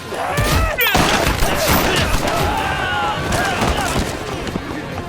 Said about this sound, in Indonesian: membuat Bao sangat marah hingga akhirnya menembak mati Chen di sana.